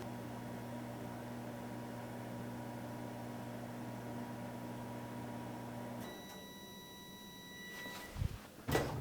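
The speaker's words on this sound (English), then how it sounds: "We're gonna start with 30 seconds on the microwave" A microwave oven runs while cooking a s'more, a steady low hum and whir that cuts off after about six seconds, leaving a brief high ringing tone before a few clunks as the door opens.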